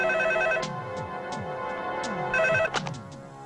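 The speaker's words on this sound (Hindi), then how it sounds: "डैडी, टोनी का फोन है" A telephone rings in a Hindi film scene, with bright electronic ringing pulses repeating over background score music, loud and close.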